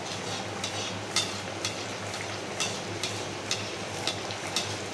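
Sabudana vada frying in hot oil, a soft steady sizzle with faint periodic ticks and light clinks from stirring or turning, quiet and without talk.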